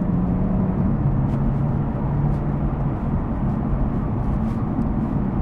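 A Lotus Evora 400 with a traditional automatic gearbox changes up after a paddle press. Its steady cabin engine drone shifts pitch smoothly, with no sharp jolt.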